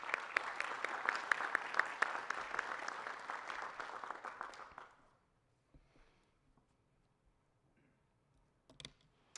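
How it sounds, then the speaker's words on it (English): An audience at a school committee meeting claps steadily for about five seconds, then the applause dies away to near silence with a few faint stray noises. "let's give her a round of applause"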